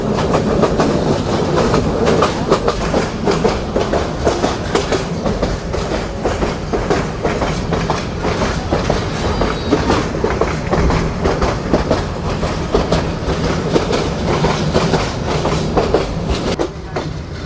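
The Mohanganj Express, running from Dhaka to Mohanganj, rolls along the rails near Mymensingh Junction with a loud, continuous rumble and rhythmic clickety-clack of wheels over rail joints, heard from on board.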